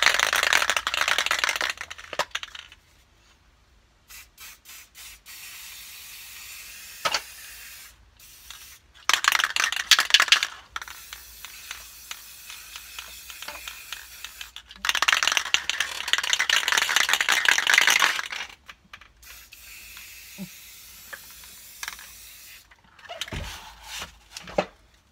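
An aerosol spray can applying blue paint to an RC car body: long hissing bursts of spray, each lasting several seconds, separated by quiet gaps and short rattling shakes of the can, loud and close.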